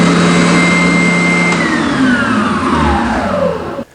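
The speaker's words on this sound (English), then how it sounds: "I switch one button, it comes on and starts sucking the sawdust down" A built-in dust collection system in a woodworking shop roars as it sucks sawdust, a loud steady motor whine that slowly drops in pitch and cuts off near the end.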